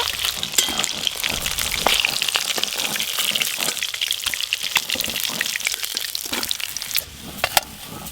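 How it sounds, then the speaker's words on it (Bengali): Small river fish frying in hot oil, a loud close continuous sizzle with dense crackling spatters and occasional sharper pops throughout, without talk. "এবার চেঙ্গো মাছগুলো ভালো করে ভেজে নেব।"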